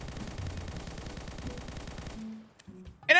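Rapid automatic fire from a standard MK47 rifle in the One Armed Robber video game, a steady stream of shots sprayed at a wall for about two seconds, then stopping abruptly into near silence with a few faint game sounds.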